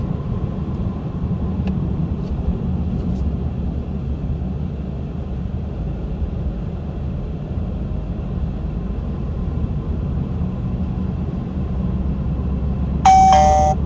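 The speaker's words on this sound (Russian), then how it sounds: "Радар определил первую камеру автодоре." An iBOX X10 GPS radar detector gives a brief bright alert chime for an Avtodoria camera near the end, heard over a steady, loud road rumble inside a moving car in Kazan.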